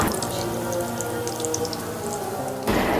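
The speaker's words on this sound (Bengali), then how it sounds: "ডিমটা সুন্দর করে বেসন দিয়ে ভেজে নিচ্ছি ডুবো তেলে।" An egg chop coated in besan batter deep-fries in hot oil, giving a steady crackling sizzle dotted with bright pops, cut off abruptly near the end by a brief louder burst.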